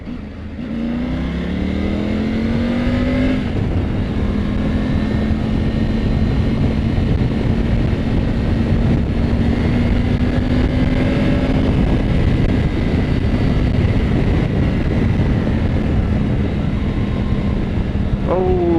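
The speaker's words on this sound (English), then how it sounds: "Let's slow down on the engine." A boat engine drones steadily through a canal day trip, a continuous low hum with a tonal whine that shifts in pitch early on, then holds nearly level and close for the whole stretch.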